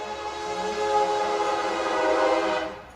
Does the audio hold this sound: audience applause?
no